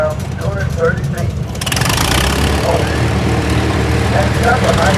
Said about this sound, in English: This is Brian and Tyler Rapp of Wheatland, Missouri. Bought the tractor in Kansas